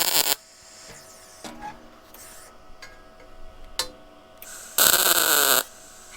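Short bursts of tack welding on a steel dirt bike storage lift, sharp loud crackling spurts separated by quiet gaps, with one longer buzzing weld near the end.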